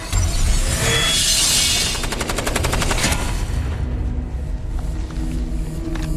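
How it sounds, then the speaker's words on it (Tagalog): Loud gunfire from a sniper rifle in the 2022 war film Snipers, a dense burst of sharp cracks and rattling shots over a rumbling battle backdrop, then fading into lower, steady combat noise. "itinutok niya ang kanyang sniper sa kalaban at tinapos siya ng isang malinis na putok"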